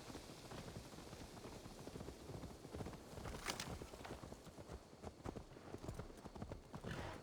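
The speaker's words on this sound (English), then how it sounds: "Let's return the horse." Horse hooves clip-clop steadily in Assassin's Creed Valhalla, a soft even walking rhythm over a constant hissing, rain-like ambience, with no talking.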